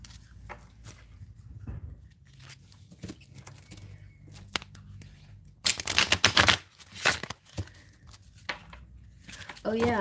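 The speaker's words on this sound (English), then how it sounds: "Gloria, I'm just going to start shuffling some cards for you" Tarot cards are shuffled with crisp riffling and flicking bursts, a loud stretch of rapid card slaps midway, with scattered soft handling sounds and light talk around them.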